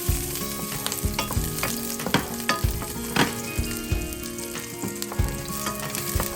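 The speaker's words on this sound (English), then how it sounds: "And then 5 cloves of garlic. So you have to stir it." Garlic cloves sizzle and fry in a pan while being stirred, with a steady crackling hiss punctuated by repeated scraping knocks of the utensil against the pan, close and alone without any talk.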